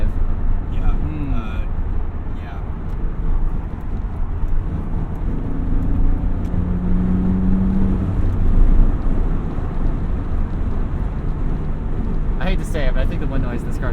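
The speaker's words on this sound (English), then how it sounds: "the wind noise in this car's worse than the S2000" Steady broadband wind and road roar inside a 1999 Dinan BMW M Roadster with the top up at highway speed, a continuous loud low rumble with engine drone, faint voices underneath.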